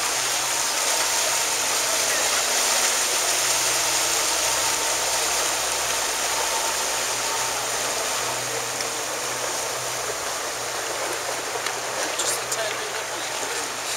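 Steady engine drone and rushing water fill the scene as a water boat motors along the Grand Canal in Venice, a continuous loud wash with little change.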